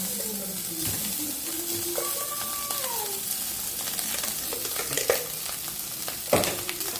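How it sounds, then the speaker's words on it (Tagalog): Cooked rice tipped into a hot frying pan gives a steady, close sizzle with stirring scrapes and a couple of louder knocks against the pan. "Tapos lagay na natin yung kanin."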